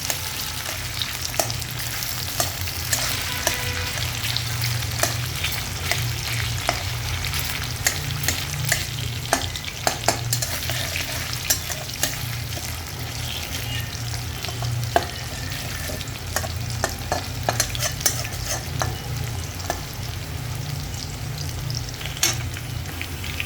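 Finely chopped green chillies roast in oil in a pan for sabudana khichdi, with a steady close sizzle and frequent scraping taps of a spoon stirring throughout.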